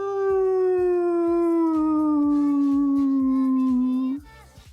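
A person's voice imitates a whale call with a long, loud, continuous howling tone that slowly falls in pitch over about four seconds, then cuts off.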